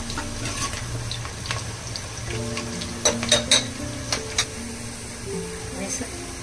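Ground spice paste for a vegetable potato dum biryani fries in a pan, a steady low sizzle with a few sharp clinks of a utensil against the pan in the middle, while a voice talks over it.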